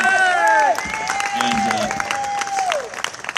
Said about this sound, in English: just one big round of applause for Jay.